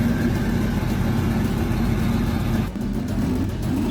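A tuned car running on an ATV dyno, a loud, steady engine drone held at constant pitch, with a slight dip in the roar partway through.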